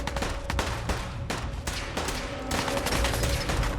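Gunfire in the video game Fallout 4: a rapid fusillade of close, loud shots with short gaps, continuing unbroken throughout.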